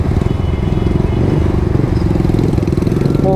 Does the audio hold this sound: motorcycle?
yes